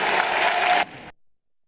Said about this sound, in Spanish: Aplausos del auditorio